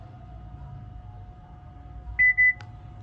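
A Sony SRS-XB3 Bluetooth speaker gives its pairing tone, two short, clean electronic beeps in quick succession, near and distinct over a faint steady hum, with no speech.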